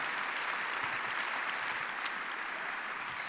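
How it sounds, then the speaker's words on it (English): Steady audience applause after a screening of films at a Waldorf 100 event, a continuous, fairly faint wash of clapping from a crowd with one brief sharp clap standing out midway. "let's give him a big applause for those beautiful films"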